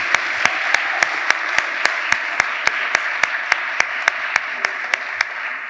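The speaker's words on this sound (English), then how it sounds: "I'd like to give a round of applause to all of those competitors who have competed so ably this weekend." An audience applauds debate competitors at an international debating competition final. A steady wash of clapping is broken by a regular series of sharp, evenly spaced claps.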